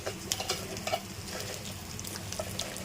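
Green chillies sizzle in hot oil in a pan with urad dal and cumin for coconut chutney, giving a steady close frying hiss broken by light stirring scrapes.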